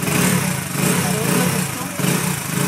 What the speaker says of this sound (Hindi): अब स्टार्ट करेंगे इस बाइक को